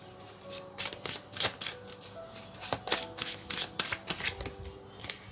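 Tarot cards are shuffled by hand during a reading, giving quick riffling flutters and soft slaps in irregular bursts, close up and moderately loud, with no speech.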